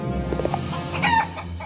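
Clucking chicken in a PAW Patrol corn roast video game, a few short fowl calls over steady game music, fairly close and moderately loud.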